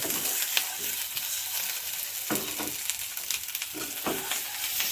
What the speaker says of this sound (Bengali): এইভাবে ঠিক সব পিঠেগুলোই ভেজে নেব